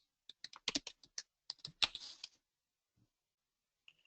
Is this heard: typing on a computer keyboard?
yes